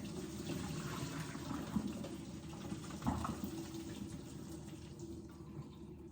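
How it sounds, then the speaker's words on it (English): Pasta water pours through a strainer into a kitchen sink, a steady, soft rushing splash that continues evenly throughout with no talking. "hold it over the sink and pour them in to get rid of all of the excess water"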